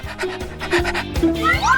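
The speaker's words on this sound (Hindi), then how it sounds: "और अब मेरे पास आओ मेरे वफादार पपी" A puppy pants close up in quick, rhythmic, breathy puffs, with a thin whine-like rising tone near the end.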